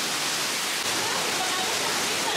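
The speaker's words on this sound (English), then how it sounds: "You got little rapids going on." A small river with little rapids rushes in a steady, close broadband wash of flowing water at a theme park, with no clear pauses.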